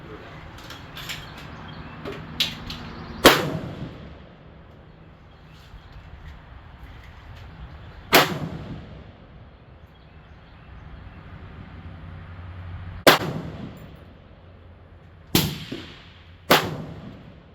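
A Kitty Kat build air gun fired at a range: five sharp, loud reports at irregular intervals, each ringing briefly before fading into a low background of mechanical creaks and noise.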